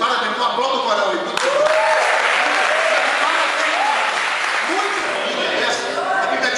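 A church congregation applauds the choir, a dense, steady wash of clapping filling the room throughout, with voices calling out over it.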